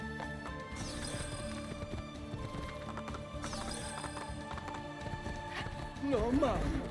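Rapid hoofbeats of a galloping horse in Assassin's Creed II run steadily under game music and effects, with a louder burst of sound near the end.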